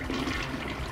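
A toilet flushes in the video game Red Faction, a steady rushing gush of water filling the whole moment at close range with no talk over it.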